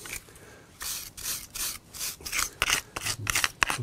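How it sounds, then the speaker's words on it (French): A hand tool scraping old mortar out of the joints of a dry-look stone garden wall, rough rasping strokes repeating in uneven bursts, close and alone with no talking. "Donc je gratte le joint."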